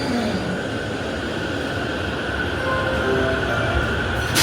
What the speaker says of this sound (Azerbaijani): Tren yetişdi